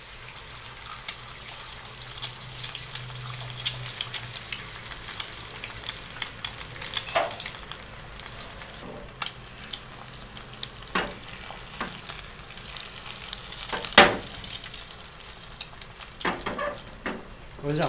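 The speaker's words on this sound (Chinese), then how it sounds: "那我们要用这个锅子来普通的煎个蛋" An egg fries in a maifan stone nonstick frying pan, giving a soft, steady sizzle with occasional small pops and a few louder clinks of a utensil against the pan, fairly quiet and close.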